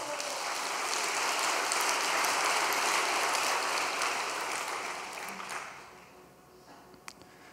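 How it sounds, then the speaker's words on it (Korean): An audience at a large indoor gathering breaks into sustained, dense applause that swells, holds for several seconds, then fades to scattered claps. "박수 부탁드리겠습니다"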